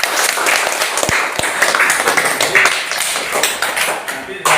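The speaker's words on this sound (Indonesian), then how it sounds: "Kita kasih aplaus untuk grup Clara." A group of people clapping for group Clara in a classroom or workshop setting, a dense, continuous burst of applause close by that carries on for several seconds.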